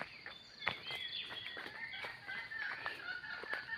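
Hens cluck and chatter in a close, continuous flock, with short overlapping calls and brief louder squawks over a steady rustling background.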